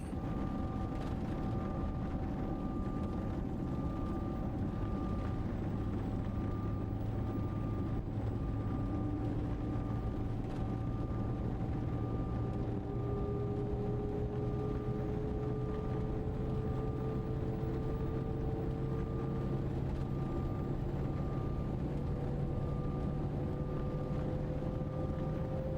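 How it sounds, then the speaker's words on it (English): The engine of an Embraer Lineage 1000 business jet starts up in the X-Plane 12 flight simulator, a steady roar whose tone climbs slowly as it spools up over a constant rumble. "Okay, engine number 2 starting up."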